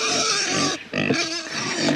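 Loud, continuous squeals and grunts from homestead pigs, shrill and overlapping, with a brief dip before the squealing resumes.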